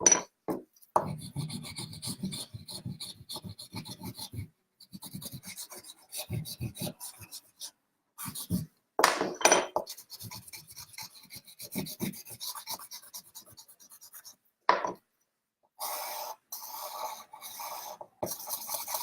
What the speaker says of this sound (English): Sometimes charcoal will make that really annoying noise